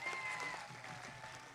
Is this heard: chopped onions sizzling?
no